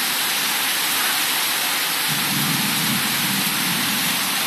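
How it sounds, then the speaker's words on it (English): Heavy rain pouring during a thunderstorm in New York City: a loud, dense, continuous hiss of rainfall with a low rumble building partway through, steady and with no talking. "it is raining hard"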